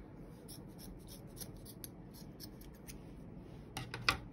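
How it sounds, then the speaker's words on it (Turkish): Macrame rope is cut with scissors in a few quick, quiet snips and rustles over faint steady room noise, with a sharper crisp snip near the end. "Daha sonra yukarıdan çektiğim kısmı şöyle kestim"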